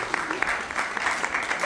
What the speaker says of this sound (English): Please, just give them a round of applause if they can stand up.